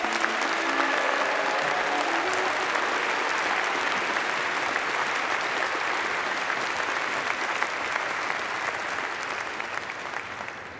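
Civil and Environmental Engineering graduates at a 2021 engineering faculty graduation ceremony get a sustained round of applause from the audience, which stays dense and even for about ten seconds before tapering slightly at the end.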